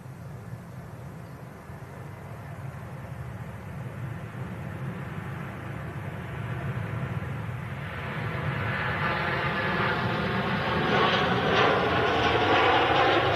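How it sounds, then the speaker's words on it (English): A Virgin Atlantic Airbus A330 airliner taking off at Manchester Airport, a distant low engine rumble that grows louder and brighter toward the end, with no voices. "we're going to capture this Virgin 330 departing to"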